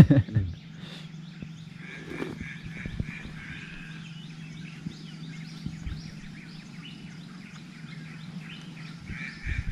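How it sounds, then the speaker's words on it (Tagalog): Many birds calling in the mountains of the Philippines: a busy chorus of chirps and tweets over a low steady hum, with a few close knocks and rustles near the start and end. "Daming ibon"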